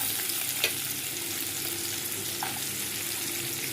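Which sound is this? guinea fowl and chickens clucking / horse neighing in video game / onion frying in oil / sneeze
onion frying in oil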